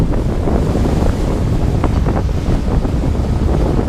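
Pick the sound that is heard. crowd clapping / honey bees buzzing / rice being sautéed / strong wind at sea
strong wind at sea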